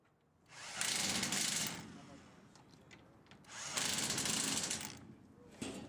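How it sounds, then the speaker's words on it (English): Power drill boring through the ladder panel of an Oasis pool during installation, two long loud whirring bursts with a quieter pause between them, close by. "use the outer holes in the panel as a guide to drill through the ladder panel."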